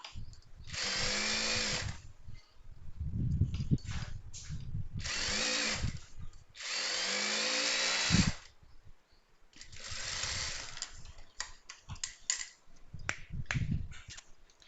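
An electric sewing machine stitches an inskirt (petticoat) during a height alteration, running in several short and longer bursts of rapid whirring with quiet pauses between them, close and clear.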